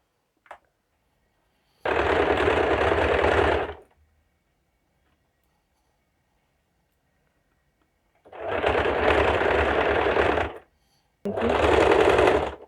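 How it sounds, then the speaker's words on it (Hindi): Sewing machine stitching a party-wear long gown: three loud, close, steady whirring bursts of about two seconds each, separated by silent pauses, with a faint click near the start. "फुल इस पर गुलाई से सिलाई डाल दें, स्टिच कर दें।"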